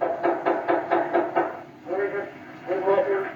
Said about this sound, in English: No answer, Lamont. The house must be empty.